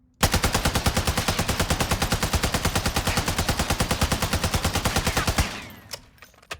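An RPK light machine gun in Warzone 2 fires one long, rapid, evenly spaced full-auto burst, loud and close, cutting off after about five seconds into a brief fading tail.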